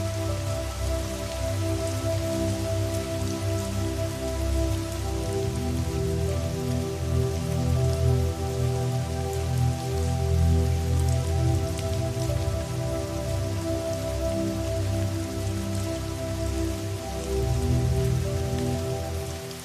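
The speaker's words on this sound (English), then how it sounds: "The rain began without warning." Steady rain pattering on surfaces, a dense, even hiss of drops that stays constant throughout, with no voices.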